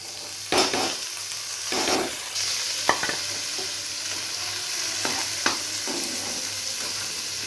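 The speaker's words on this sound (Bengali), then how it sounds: "তেলটা গরম হয়ে গেছে, এবার ডালগুলো আমি দিয়ে দেব।" Moong dal drops into hot oil and fries with a steady close sizzle, broken by a few bursts of stirring and scraping in the pan.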